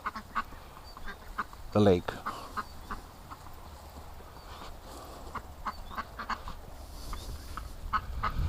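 A duck being helped down toward a lake quacks in a loud burst of calls near the two-second mark, with fainter bird calls scattered through an outdoor scene and a voice talking nearby.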